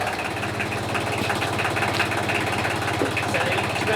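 A tractor engine idles steadily nearby at an off-grid earthbag building site, a continuous low rumble with a rough knocking pulse and no voices over it.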